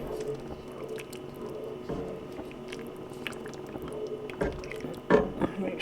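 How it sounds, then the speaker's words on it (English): Creamy sausage gnocchi soup with Parmesan being stirred in a pot makes soft, wet squishing and sloshing sounds. The sounds are quiet and continuous, with a few sharper clinks and splats near the end. "Make sure it's stirred up really well"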